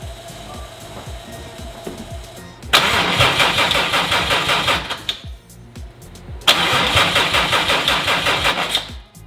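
A car engine cranks over and over without catching, two long loud bursts of starter grinding separated by a short pause, close by and with no talk.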